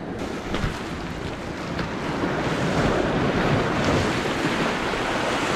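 Sea waves surge and wash against a rocky UK coastline where people lure fish for pollack and cod. The roar is steady and close, with gusts of wind buffeting the microphone throughout.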